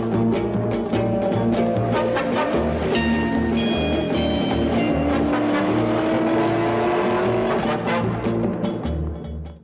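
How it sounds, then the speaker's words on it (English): A kit car races in from the far horizon in The Prisoner opening, its engine note loud and rising as it approaches, roaring steadily over a dense musical backing throughout. "we see number 6, the prisoner of the title, zoom at us from out of the distant horizon in a kit car"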